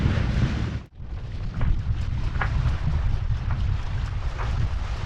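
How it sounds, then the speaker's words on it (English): Steady, loud wind buffets a sailboat at anchor in an abandoned marina in wind of about 23 to 24, a continuous rushing roar with brief gusty peaks and a short dip, no voices. "And now the wind's picked up, it's like 23, 24."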